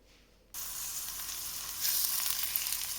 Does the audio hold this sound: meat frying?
yes